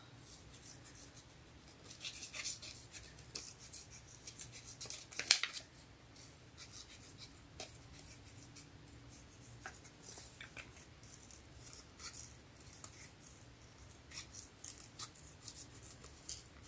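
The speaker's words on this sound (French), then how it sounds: "Donc là, je vais prendre un petit ciseau." Small scissors cut paper for a card-making craft, giving faint, intermittent snips and rustles in a quiet room, with one sharper click partway through. Nobody talks.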